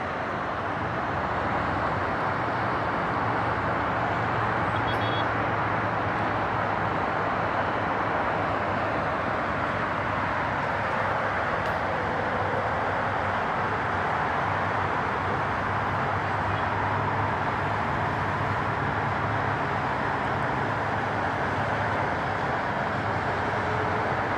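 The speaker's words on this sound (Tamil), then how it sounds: "இதெல்லாம் வண்டி போயிட்டே இருக்குது" Steady road traffic from vehicles passing continuously on a road, a broad even rumble with no distinct single pass-bys, heard from a moderate distance.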